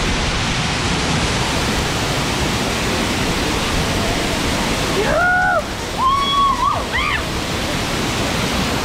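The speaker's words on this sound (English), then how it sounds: "Currently just under a waterfall." Heavy waterfall pouring down from close beneath it, a dense roaring wash of falling water that stays loud and steady throughout, with brief voices cutting through near the end.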